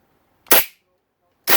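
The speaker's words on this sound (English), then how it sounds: "Now I'm going to blast in each one of the threads in case there's any grit or anything in there." Two short, sharp bursts of compressed air blasting grit out of bolt threads on a 2019-2023 Yamaha YZ250F engine during a rebuild, close by and separated by about a second of quiet.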